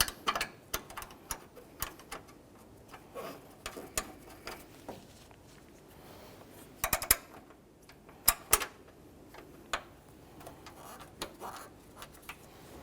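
Bolts are fitted and tightened on a 2003-2007 Honda Accord front bumper bracket, heard as faint, scattered metallic clicks and taps of hand tools over a quiet background.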